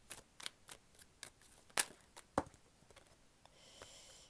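An oracle card is drawn from a deck, giving a run of soft, quick papery ticks and a couple of sharper snaps up close, ending in a faint brief rustle.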